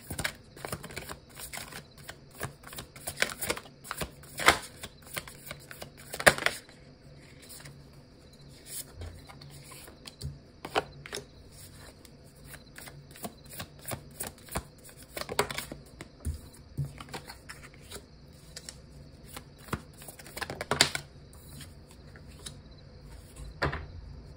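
Tarot cards are shuffled and drawn, giving soft, scattered snaps, flicks and taps at irregular intervals over a quiet background.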